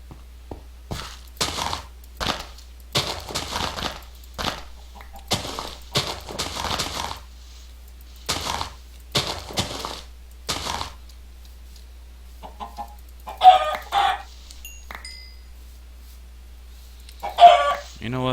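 Repeated, fairly loud clucking comes from a flock of chickens in the video game Minecraft, with bursts spaced through the stretch and brief cries near the end.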